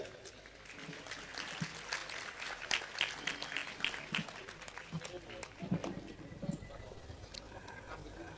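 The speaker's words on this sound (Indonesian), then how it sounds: "Tepuk tangan" Scattered audience applause at an Indonesian public talk, a light patter of claps at moderate distance with voices talking over it throughout.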